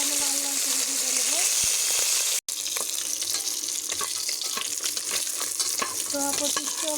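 Tilapia pieces fry in hot oil with a loud continuous sizzle, interrupted by a very brief cut, followed by spattering crackles and spatula scrapes against the pan.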